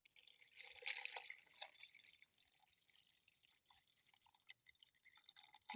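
Water trickles and drips into buffalo milk cream in a blender jar, a faint, close splashing pour that starts strongly, then breaks into scattered drips and small plops.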